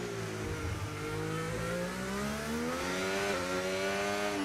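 Aston Martin race car engine heard on board in a racing game around Singapore's tight, twisty corners, a steady loud rising and falling engine drone with shifting pitch, no talk.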